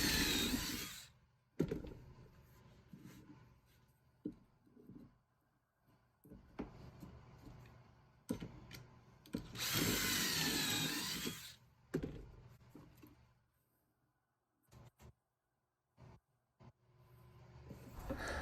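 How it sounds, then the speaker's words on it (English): A power drill bores pocket holes into wooden chair pieces in several short bursts, whining loudly between quiet pauses with small clicks and handling sounds. "we'll drill 1 pocket hole in each end"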